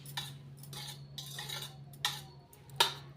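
A spoon mixes yogurt chutney in a bowl, making about five soft scraping strokes and light clinks at an uneven pace, quiet and close with no talk.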